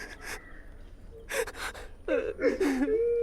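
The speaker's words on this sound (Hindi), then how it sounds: "रोने की आवाज आ रही है क्या तुझे?" Someone crying in gasping, wavering sobs that break and rise, with sharp breaths in between and no speech.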